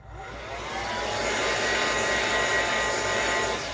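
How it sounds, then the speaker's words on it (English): A hair dryer drying an art journal page blows in a steady, loud whoosh with a low motor hum, running continuously close by with no voices. "If you don't want to hear my dryer"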